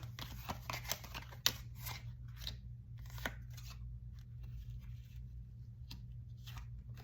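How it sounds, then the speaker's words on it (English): Crisp rustling and snapping of cards being shuffled close up, in quick irregular bursts over a low steady hum. "So we're going to shuffle these extra."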